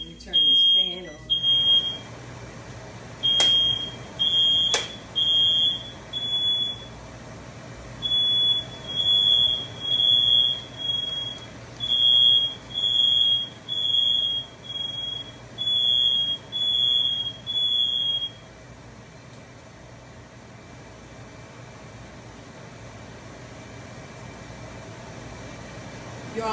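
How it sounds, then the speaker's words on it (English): A sensitive kitchen smoke alarm set off while cooking breakfast, sounding a loud, high, piercing beep in a steady on-off pattern of about a dozen bursts before it stops, with a constant low hum underneath. "That alarm goes off so easily."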